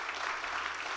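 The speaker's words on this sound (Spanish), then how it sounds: "Denles aplauso a Jesucristo." Church congregation clapping in praise, a continuous even roar of many hands throughout, with no voices standing out.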